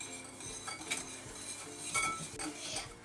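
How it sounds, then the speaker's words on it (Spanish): Egg and sugar stirred in a bowl, a utensil clinking and scraping against the dish in quick, close strokes with no talk. "Primero echamos el huevo en el bol. Después echamos el azúcar. Y después removemos."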